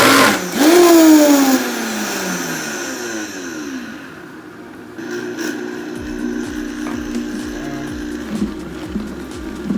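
A food processor blends ground beef with spices for Turkish flatbread, its motor whirring loudly and winding down in a falling pitch within the first seconds, followed by quieter clattering and a low hum.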